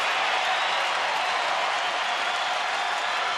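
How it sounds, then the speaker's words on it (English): A baseball stadium crowd at a Rangers home game against the Astros roars in a steady, unbroken wash of cheering and clapping, loud and even throughout. "the crowd getting riled up to support Tanner Scheppers and the Rangers"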